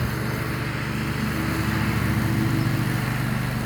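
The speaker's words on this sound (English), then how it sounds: "He could really go pretty fast on that mower" Ride-on lawn mower cutting dry grass, its engine droning steadily and close by with a constant low hum throughout.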